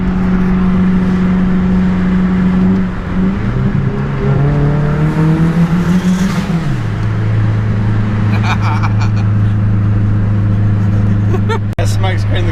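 A GT Falcon's engine is floored at full throttle, a loud, steady drone whose revs climb, drop at a gear change around halfway, then pull hard again with a deep rumble.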